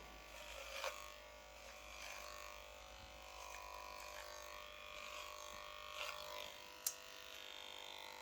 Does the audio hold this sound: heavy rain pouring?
no